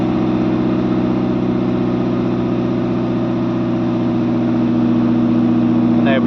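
A Morris car engine idles steadily on a snowy day at about -3°C, just after starting, with an even low rumble that stays constant and close, easing off choke.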